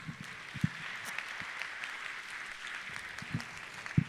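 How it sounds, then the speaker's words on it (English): Distant applause from a crowd forms a steady, soft wash of clapping, with a few sharper nearby claps popping out. "that deserves a round of applause"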